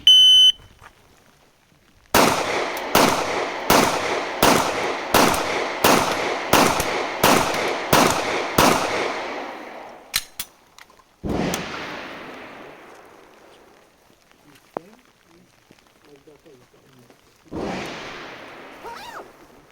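Shot timer beep, then ten Glock 17 pistol shots at 25 yards fired in a steady, evenly spaced string, loud and close, followed by a few isolated clicks and two later sharp reports, no talk over the shots.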